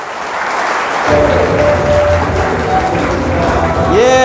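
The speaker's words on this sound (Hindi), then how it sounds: "सब जन तालियां बजाइए।" An audience at a Hindi-language health seminar bursts into broad, sustained clapping after a short quieter lead-in, filling the room with dense applause that carries on to the end, with a voice and a faint tone mixed in.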